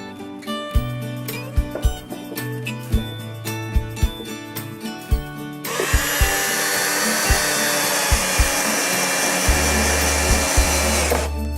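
Power drill driving screws into pallet wood for a bench: short repeated whirring bursts with clicks and thuds, followed by a longer sustained drilling whine that ends with lower grinding pulses, close and loud.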